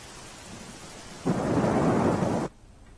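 Rain hisses steadily over Junagadh, Gujarat, then a loud, dense roar of heavy downpour surges for about a second before dropping back to a softer patter.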